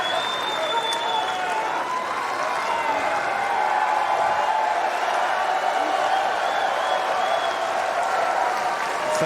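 A tennis crowd at the 2024 US Open cheers and applauds steadily for about nine seconds, a dense, even wash of clapping and cheering with no clear breaks.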